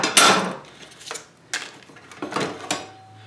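Stacked 8-inch dado set cutters for a table saw are handled and set down, giving several sharp metallic clinks and clatters at irregular intervals, close and clear, with no talk.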